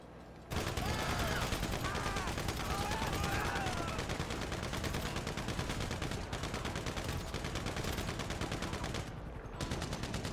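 Gunfire in the video game GTA Online, with rapid continuous bursts of automatic shots packed tightly together. It is loud and sustained throughout, with a few faint voice-like tones mixed in early on.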